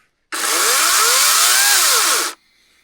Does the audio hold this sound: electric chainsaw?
yes